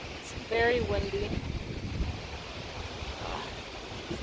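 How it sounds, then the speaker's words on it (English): Wind buffets a Samsung Galaxy S10e phone microphone in a constant low rumble, with a brief bit of faint voice near the start. "It's very windy."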